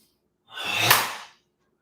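One strong, hissing in-breath during a qigong exercise class, close and fairly loud, swelling and fading over about a second, alone without talk.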